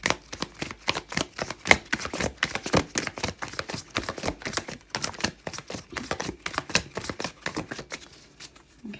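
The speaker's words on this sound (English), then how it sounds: "So I'm just going to shuffle you some cards from the Gnome Tarot now." Gnome Tarot cards being shuffled close by, a long run of rapid crisp riffling snaps and soft slaps, steady and dense, alone without any voice.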